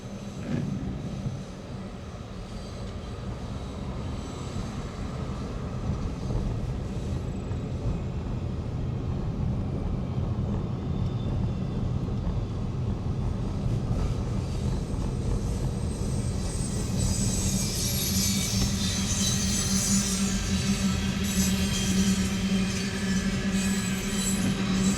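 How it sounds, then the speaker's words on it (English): A train rolls past on tracks near an Ohio River drive, a steady loud rumble of wheels and cars with rising metallic screech and squeal toward the end, no talking. "we were talking about trains, and one just went by"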